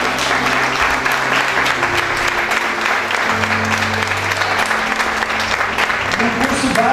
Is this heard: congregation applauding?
yes